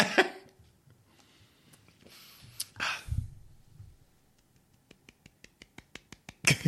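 A string of about ten light, evenly spaced small claps, soft and close, follows a few scattered quieter noises in an otherwise calm podcast room.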